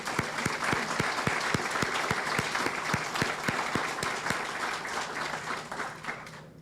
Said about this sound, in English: Let's give a round of applause for our official party today.